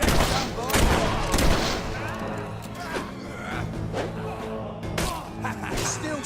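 Gunfire erupts in a Fable III battle as bursts of loud shots and booms crack close by, with heavy clatter and an occasional voice mixed in.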